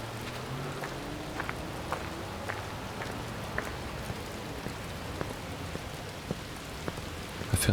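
Steady rain falls on a Chicago city night in the video game Watch Dogs, a soft continuous hiss with faint scattered drip ticks and light footsteps walking through puddles at a regular pace.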